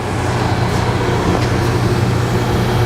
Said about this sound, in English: And now the oven itself is on, and the new blower motor is running